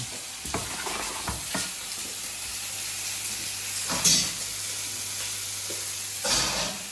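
Crispy beef tossed into sauce and cooked vegetables in a hot pan, a steady sizzle punctuated by several clanking stirs and scrapes of the utensil, up close, with a brief hiss of steam.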